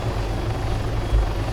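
Arma 3 helicopter whirring loudly and continuously, rotor thump and engine whine heard up close, with a brief low bump near the end and no talking.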